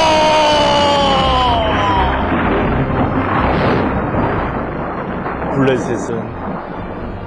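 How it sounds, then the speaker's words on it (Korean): A thunder sound effect in a children's Bible story: a long, loud, roaring rumble that slowly fades, with a voice speaking over its start. "하나님이 보내준 그 천둥 소리"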